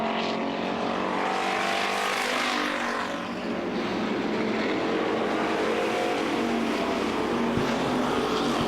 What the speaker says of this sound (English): That's Dufresne out there in the back straightaway, car number 78